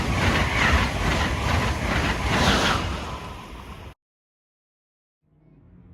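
Amtrak Acela high-speed train rushing past at about 150 mph, a loud close roar with rail clatter for about four seconds, then sudden quiet.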